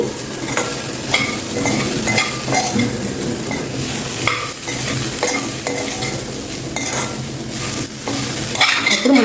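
Steady scraping and stirring of dry ragi semolina roasting in a hot pan, with a faint sizzle and occasional light clinks of a spoon against metal.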